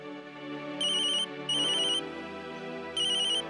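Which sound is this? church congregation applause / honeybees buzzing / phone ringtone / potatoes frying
phone ringtone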